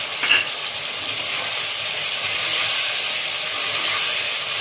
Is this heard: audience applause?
no